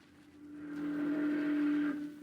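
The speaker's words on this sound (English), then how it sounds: "a steamboat," Steamboat sound effect from a 1942 radio drama: a sustained, swelling whistle tone over a low rumble, rising in loudness then cutting off, heard alone and faintly.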